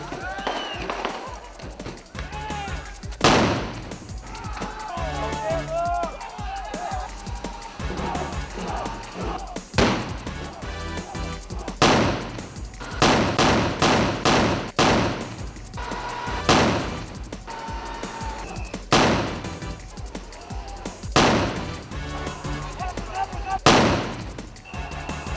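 A field artillery group trains with repeated gun blasts: sharp, loud booms and cracks fire at irregular intervals, some in quick clusters, over a background of voices.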